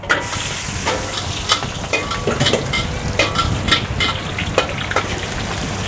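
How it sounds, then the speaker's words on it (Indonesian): Onions dropped into very hot oil fry with a loud, dense, continuous sizzle and crackle, close up, with scattered spatters and occasional utensil scrapes throughout, no voices. "Di sini gue udah manasin minyak gue udah bener-bener panas banget. Sekarang gue masukin bawang-bawangannya dulu."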